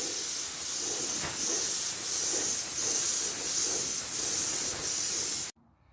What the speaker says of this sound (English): Just progressively get smaller and do smaller sprays as you add more coats.